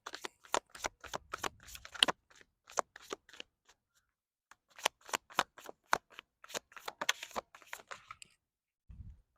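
Tarot cards are shuffled close up in two bursts of sharp, crisp riffling snaps separated by a short quiet pause, followed by a soft low thump at the end.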